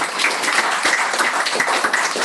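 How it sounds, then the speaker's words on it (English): An audience gives a round of applause for the speakers at the close of a building-safety talk, bright, continuous clapping filling the room at a loud, steady level. "Can we have a round of applause for our speakers today?"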